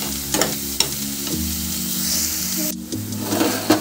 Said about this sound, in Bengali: মিডিয়াম হিটে রেখে কিন্তু পেঁয়াজ বাটাটা কষাতে হবে, নাহলে পেঁয়াজ পুড়ে যাবে।